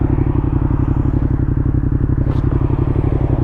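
Yamaha XSR 700 motorcycle being ridden at a normal pace, its twin-cylinder engine throbbing in a steady, loud, close pulsing rumble throughout.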